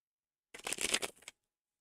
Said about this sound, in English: I'm shuffling the deck here